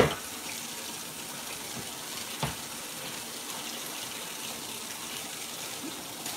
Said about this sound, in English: You better run that doggone hot water down there.